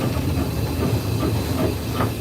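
Isle of Wight Steam Railway steam locomotive heard from the cab with more steam on the regulator, a steady loud hiss and rumble of running under way, without voices.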